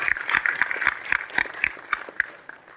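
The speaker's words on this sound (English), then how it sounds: "I want you to clap for them" An audience at a Constitution Day address in Patna claps in a short, fairly sparse burst that thins out over a few seconds, with no speech over it.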